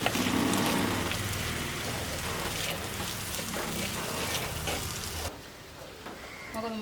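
Tomatoes added to sautéed onions and green chillies sizzle steadily in a pan, a dense, close crackling hiss that fades a little toward the end.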